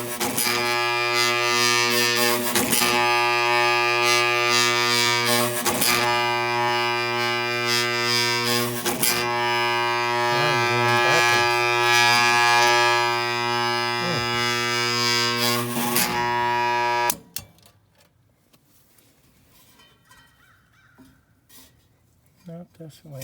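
A worn-out blower motor in a Lennox heat pump package unit runs with a loud, harsh, steady tonal hum and periodic clanking knocks, then shuts off abruptly, leaving faint background noise.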